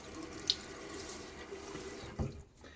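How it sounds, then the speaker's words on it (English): Cold hard water from a bathroom sink tap splashing onto a face during a wet shave, with a couple of soft splashes and drips over a quiet running-water background. "Let me throw a little bit of water on my face."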